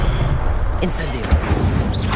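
Incendio fire spell from the Hogwarts Legacy video game, a loud low booming roar running throughout with brief sharper crackles partway, mixed under game sounds.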